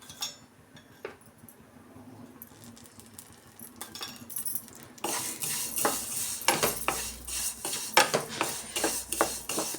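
Vermicelli roasting in a spoonful of oil in a pan for shavige bath: quiet at first, then close, busy scraping and metallic clinks of a spoon stirring against the pan, growing louder over the last half.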